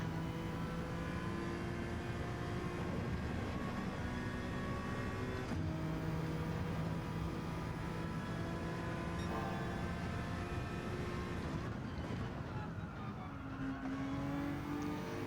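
A Honda NSX GT3 race car in Gran Turismo 7 at Lago Maggiore drones steadily at high revs, with gear changes shifting the engine pitch and a drop in revs under heavy braking near the end, with no talking.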